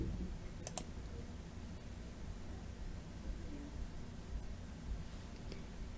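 A computer mouse clicks twice in quick succession to open a file, faint sharp ticks over a quiet background hiss.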